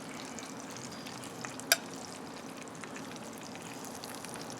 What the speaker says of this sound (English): You're constantly stirring just to make sure that the watery stuff